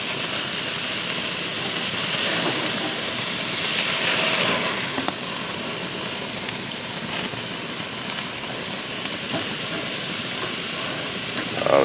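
Thin pork chops sizzle in a hot pan, a loud, steady, dense hiss that holds evenly throughout with a slight swell near the middle.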